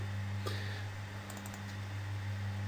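Keys tapped on a computer keyboard while entering a word into Spin Master Pro Gold software, a few faint clicks over a steady low electrical hum.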